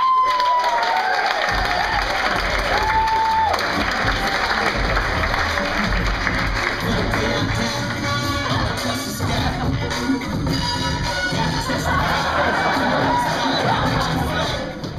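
A large audience applauds loudly and continuously, with cheers and whoops rising above the clapping and crowd voices mixed in throughout.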